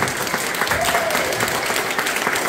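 Applause for first-grade pupils at a Polish school ceremony: a dense, continuous patter of many hands clapping from a crowd, close and steady throughout, with a voice faintly audible beneath.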